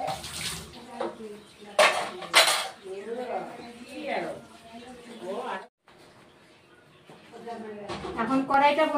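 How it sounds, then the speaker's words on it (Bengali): A kadai (wok) being scrubbed during washing up, with running water, clattering metal and scraping strokes in bursts, close by, with someone talking over parts of it. "এখন কড়াইটা বন্ধুরা খালি মাজবো"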